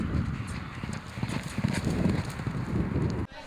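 Horse hooves clip-clop steadily at a racing stable, a close, even rhythm of hoof strikes on a hard surface with light wind noise behind, no talk over it.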